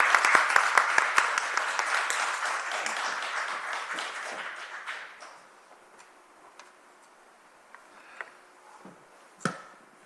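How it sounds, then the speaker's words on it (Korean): An audience at a Seoul mayor's forum talk claps a warm welcome, dense applause at first that thins out into scattered individual claps and a few sharp last ones over several seconds. "큰 박수로 부탁드립니다."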